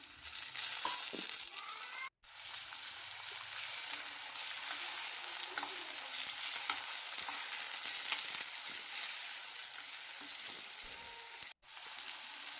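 Onion and tomato frying in hot oil for vangi bath gojju, a steady close sizzle with faint stirring scrapes, continuous throughout apart from two very brief pauses.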